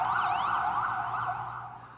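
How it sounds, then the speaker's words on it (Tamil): An emergency vehicle siren wails through the streets of New York City near a park converted into a military field hospital, a steady, continuous rising and falling tone that carries clearly throughout, with no talk. "இங்கு எப்போதும் சைரன் சத்தம் கேட்டவாறு உள்ளது."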